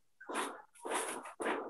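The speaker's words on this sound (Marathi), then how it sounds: "कुत्रा." A dog gives three short, rough barks in quick succession, close and fairly loud with brief silences between them.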